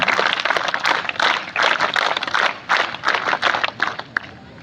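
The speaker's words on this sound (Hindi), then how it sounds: "तो बच्चों तालियां खूब होनी चाहिए आपकी तरफ से।" Children at a school winter rally opening in Narayan Nagar, Chamoli, Uttarakhand, clap to welcome a guest, loud, close bursts of uneven clapping rising and falling in waves over several seconds.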